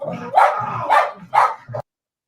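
Krypto the dog barks three times, loud and close, in a Superman movie scene. Each bark is sharp and yappy, followed by a short final yelp before silence.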